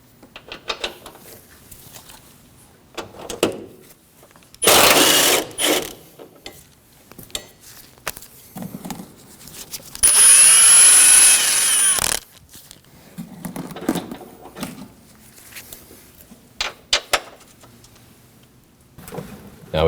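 A power tool on a Honda Pilot's front strut nuts gives two loud, steady whirring bursts of about two seconds each, separated by quieter clanks and clicks of handling the parts.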